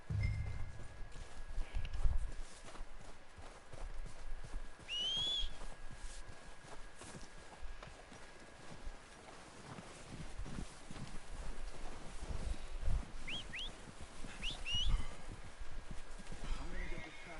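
Horse hooves clip-clop at a steady walking pace in Red Dead Redemption 2, mid-distance, with occasional snorts and whinnies over a rustling outdoor ambience.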